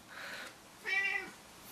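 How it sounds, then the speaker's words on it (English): A cat meows twice, a soft drawn-out call followed by a louder, brighter meow, heard alone at close range. "Meow indeed, Jasper."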